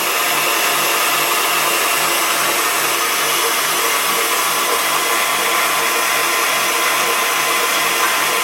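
An electric mixer whisks crepe batter at high speed, producing a loud, steady, unbroken whirring hum close by with no talking.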